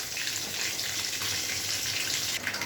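Water pours steadily into a pan of cooking parshe fish with brinjal, a close continuous rushing splash that cuts off near the end.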